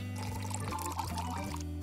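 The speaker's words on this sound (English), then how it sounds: "Pour some glass paint into it." Glass paint pours into a degreased glass jar in a brief, soft liquid stream lasting under two seconds, faint beneath background music.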